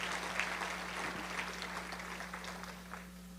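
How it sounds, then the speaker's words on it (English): Applause for student performers at a fundraiser event, a soft, steady wash of clapping heard from a distance over a constant electrical hum, gradually easing toward the end. "So please give another round of applause for Cora and Kellen"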